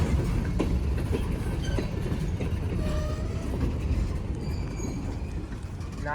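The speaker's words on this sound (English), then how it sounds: "But this train just keeps going back and forth, back and forth." A train passes on a railroad track near the Appalachian Trail, a loud, continuous rumble with rhythmic clickety-clack from the wheels and faint metallic squeals, with no talk.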